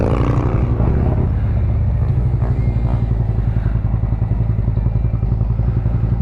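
Motorcycles riding out after a Harley-Davidson stunt show, with a loud, continuous engine rumble and throttle pulses from bikes close by, plus crowd and traffic noise behind.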